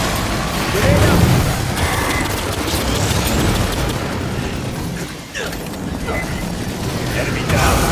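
Grenade blast and rapid gunfire in the sci-fi shooter Aliens Fireteam Elite 2, a dense continuous barrage of shots and booms with several sharp bursts, loud and close throughout.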